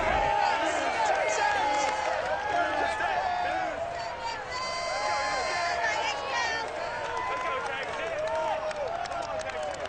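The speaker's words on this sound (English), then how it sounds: "this crowd enthusiastically cheering on their Texans as they emerge from the locker room" Crowd noise from Madden NFL 22, fans cheering as the Houston Texans come out of the locker room, a dense steady roar with a rising swell midway, a broadcast voice talking over it.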